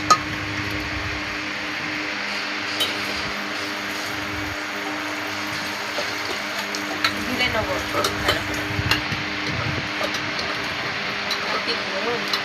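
Mutton stirred and fried in a pan at home, a continuous close sizzle with scraping and clinking of the spoon, while voices chat intermittently in the background.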